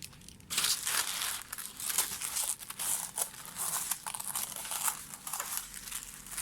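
A sheet of zero-waste aluminium foil substitute wrap is handled and crumpled up close, giving a continuous dense crinkling with sharper crackles throughout, loud and steady, with no voice over it.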